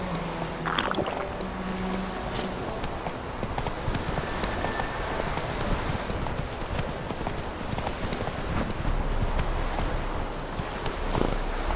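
Horse hooves clip-clopping at a gallop in The Witcher 3 video game, a steady rhythmic pounding under wind and ambient game noise throughout.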